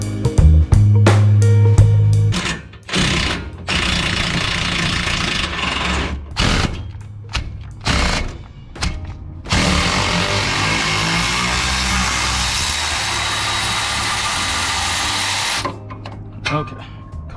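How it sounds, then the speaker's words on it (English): Impact wrench working on a rear brake caliper bolt of a Silverado during a big brake kit swap, firing in loud short bursts at first and then in longer sustained rattling runs, with a person talking in places between bursts. "I'm probably just gonna use the impact to get that bottom off"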